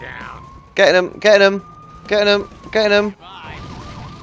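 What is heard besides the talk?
police siren in a video game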